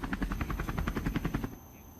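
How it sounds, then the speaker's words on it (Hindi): A helicopter flies overhead filming an aerial view of the Supertech twin towers before their demolition, its steady rotor chop pulsing loudly and evenly for about a second and a half before dropping away. "तो देखा आपने हेलीकॉप्टर में सवार मेरी सहयोगी शीनम,"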